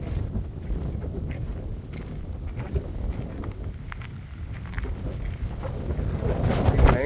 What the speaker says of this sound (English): Wind's really kicking up here, so it's trying to blow me around.